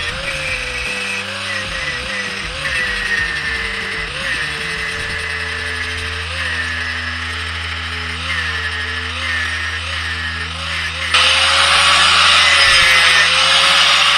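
Power grinder smoothing welded studs on steel spring cups for an air-ride suspension on a 1964 Ford Galaxie, a steady close whine that turns harsher and louder near the end, running alone throughout.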